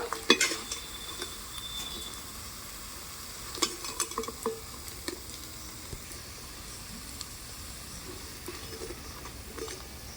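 Raw banana pakoras frying in hot oil give a steady, soft sizzle and hiss, with several sharp clinks of a metal utensil against the pan as the fritters are lifted out.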